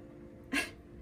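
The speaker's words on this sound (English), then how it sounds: "I'm gonna give you a shot of the atomizer." A single short hiss from a perfume atomizer spraying Kay Ali Utopia Vanilla Coco 21 fragrance, close and brief, rising sharply over a quiet room and fading within a fraction of a second.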